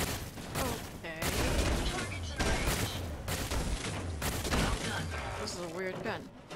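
Gunfire from a strange weapon in the Fallout 4 Automatron DLC: loud, dense bursts of rapid shots and blasts mixed with game sound effects, nearly continuous, with a voice speaking over part of it.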